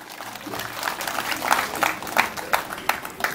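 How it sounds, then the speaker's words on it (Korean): A crowd applauding at moderate distance, with individual claps standing out as it builds, and some voices faintly mixed in. "힘차게 박수를 부탁하겠습니다."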